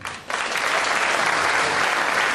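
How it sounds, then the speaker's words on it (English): A live audience applauds a card-reading magic act, the clapping bursting in after a brief quiet moment and holding steady and dense to the end. "let's give Sharon a huge round of applause."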